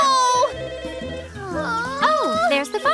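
A cartoon telephone rings with a bright trilling tone over continuous animated voices and music, with children's speech and cries mixed in throughout.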